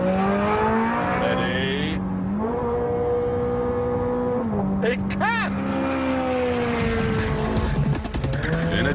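A Ferrari 430 Scuderia accelerates hard through rapid gear changes, its engine note climbing and dropping in steps, with a sharp tire squeal partway through; someone speaks briefly over the loud, close engine.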